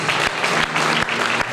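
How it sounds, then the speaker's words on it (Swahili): Steady applause from a congregation at an evening church worship service, a dense continuous clapping with slight surges in intensity. "makofi yetu"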